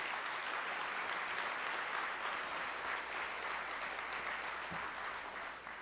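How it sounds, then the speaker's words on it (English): Audience at a community friendship dinner applauding steadily, a dense, even wash of many hands clapping that holds for several seconds and eases slightly toward the end. "Let's give her another round of applause."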